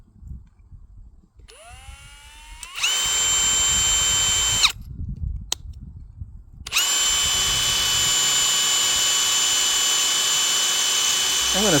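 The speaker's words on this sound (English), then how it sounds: "I'm going to spare you the drilling of the rest of these holes" A power drill bores a hole in a metal pivot bar that was marked with a center punch, first as a brief rising spin-up and then as a loud, steady high whine in two long runs with a pause between them.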